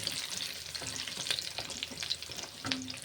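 Curry leaves go into hot oil in a pan, giving a steady, soft sizzle with faint stirring and scattered crackles.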